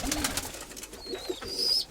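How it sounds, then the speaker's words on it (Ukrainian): Pigeons cooing softly in a loft, with low rolling coos and faint rustling, plus a thin high whistle near the end. "Ось Валерина голубка."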